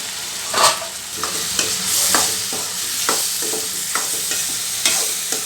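Ridge gourd curry sizzling in a pan over a high flame, stirred with repeated scraping strokes every half second or so over a steady, close frying hiss; no voices.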